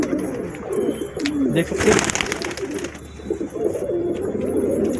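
Pet pigeons cooing on a rooftop while pecking at pieces of roti, soft repeated throaty coos close by throughout, with someone talking over them.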